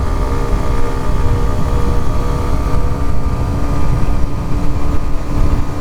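A Kawasaki Ninja 125 motorcycle accelerates uphill through its gears using clutchless quick shifts, giving a steady, loud, buzzing engine drone close by with small surges as the gears change and no talk.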